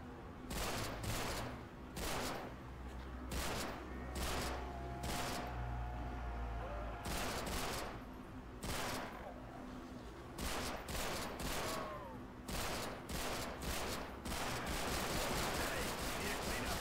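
Gunfire in the video game Call of Duty Warzone crackles in repeated bursts and single shots across the whole stretch, loud and close, with a voice talking faintly between volleys.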